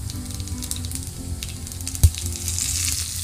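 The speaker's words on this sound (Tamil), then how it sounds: "நல்லெண்ணெய் மூணு ஸ்பூன் ஊற்றிருக்கேங்க கடுகு கருவேப்பிலை போட்டு தாளிச்சிட்டு" Steady sizzling of mustard seeds and curry leaves frying in hot sesame oil, with faint crackles and a single clink near the middle.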